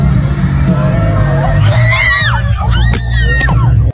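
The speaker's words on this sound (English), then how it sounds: "people were screaming. They were scared." A concert crowd at a show screams and shrieks, many high voices rising and overlapping in bursts over a low, steady music and crowd din.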